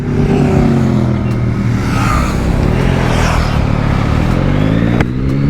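Several cars overtake a Yamaha MT-09 motorcycle on the road. Their engines rise and fall in close passes over steady wind rush and the bike's low drone, loud throughout, with no talk.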